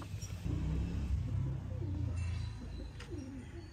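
Breeder pigeons, a pair of VIP-class Royal Teddy birds kept in Sialkot, coo in low soft rolling phrases that run through most of the moment, fairly close, with faint background noise and a brief higher call near the end.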